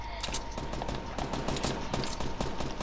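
Rapid gunfire in the video game Fortnite during a 50v50 match, a fast, continuous string of sharp shots with a steady rhythm, fairly loud and unbroken across the whole stretch.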